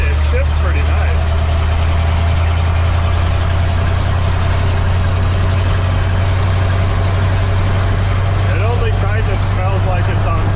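A 1960 Chevy K10 4x4 truck, a first-year factory four-wheel-drive, rumbles steadily with a loud, heavy low engine drone as it drives over a washboard dirt road, rattling and jostling faintly on top throughout.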